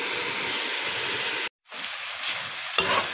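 Pumpkin and ridge gourd fry and get stirred in a pan, giving a steady close sizzling hiss that cuts out briefly, returns, and ends with a sharper scrape.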